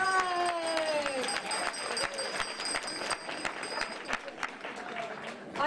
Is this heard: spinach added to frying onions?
no